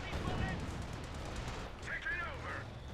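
Vickers machine gun fire in a Company of Heroes 2 match, with rattling bursts in the distance, layered into a dense, continuous wash of battlefield noise.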